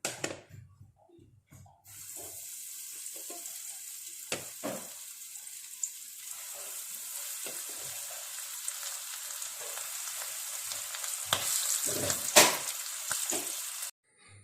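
Broast-mix kebab pieces frying in hot oil in a pan, a soft continuous sizzle that builds after a quiet start, with a few sharp clicks and bumps and no talking.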